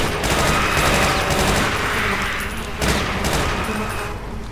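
A weapon fires in rapid sustained bursts in Brutal Doom during a cave level, loud and dense with booming shots that continue without pause through the whole stretch.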